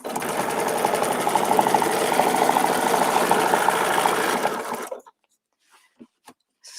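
A sewing machine stitching a quilt sandwich along a template: a loud, steady, close mechanical whirring hum for about five seconds that stops abruptly, followed by a few faint clicks.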